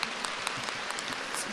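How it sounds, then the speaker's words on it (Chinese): An audience applauds in a short, steady burst of clapping, fairly soft and continuous without other sounds. "鼓掌"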